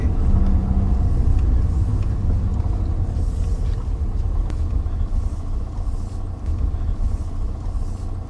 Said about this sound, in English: You can keep the engine running.